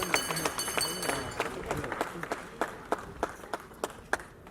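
A crowd claps after a master of ceremonies asks them to cheer loudly for Mars Kadiombo, with dense applause at first and then thinning to distinct separate claps toward the end.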